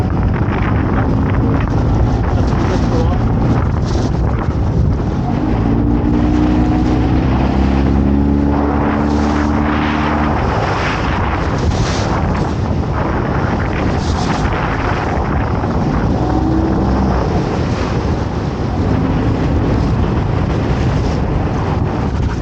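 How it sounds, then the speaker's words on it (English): Strong wind buffets a microphone out on a boat, a dense, constant roar that stays loud throughout with a low engine or motor hum underneath and no speech. "Wind's certainly increasing at a rate of knots now."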